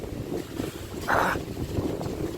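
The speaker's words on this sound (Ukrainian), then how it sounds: "вітер такий" Cold, strong wind in a forest roars and buffets against the microphone, a steady rumbling gust with a brief louder whoosh partway through.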